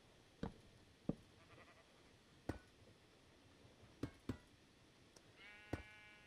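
In Minecraft with the Create Aeronautics mod, sharp mechanical clicks and knocks sound at irregular intervals around a motor-fitted sheep, ending with a brief bleat-like call, all fairly quiet.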